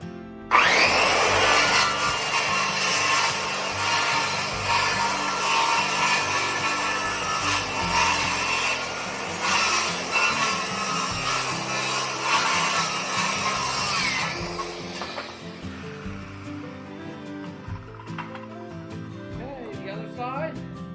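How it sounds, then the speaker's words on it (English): Cutting apart a wooden pallet for kindling: a long, loud, continuous saw-like grinding through wood, close up, then breaking off into quieter scrapes and knocks, with a voice speaking at times. "I'm going to be dismantling this pallet and I'm going to be turning it into kindling and firewood"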